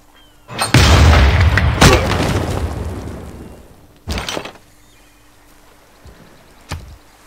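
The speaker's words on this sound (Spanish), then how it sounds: "Cañonazo." A heavy booming cannon blast in Civilization VI, with a long rumbling tail, followed by a second sharper impact and a faint crack near the end.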